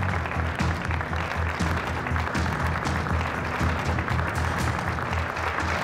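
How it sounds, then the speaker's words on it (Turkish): Sustained applause from a theater audience as performer Yiğit Kozan is called to the stage, a dense steady wash of clapping at even loudness with no voices over it. "Alkışlar Yiğit Kozan için."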